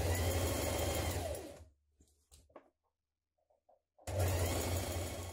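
A sewing machine stitches a dress seam in loud, close bursts of rapid mechanical whirring, with a quiet pause of faint clicks and rustles between the two runs.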